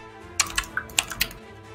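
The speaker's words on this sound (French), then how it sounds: "elle est en train de maltraiter son clavier" Someone hammers hard on a computer keyboard while playing Vermintide, a quick run of about eight sharp, loud key clacks in an uneven rhythm over under two seconds.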